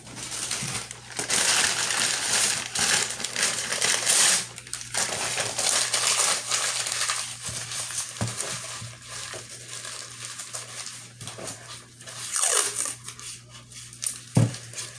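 Paper is crushed and crumpled by hand while an alien sculpture armature is built, producing rustling, crackling bursts that swell and fade in irregular waves, with a few sharper knocks near the end.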